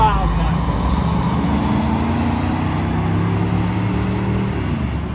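Mud trucks at a 2024 Florida truck meet roll past, a droning engine whose pitch slowly sinks as it goes by, moderately loud, with people talking throughout.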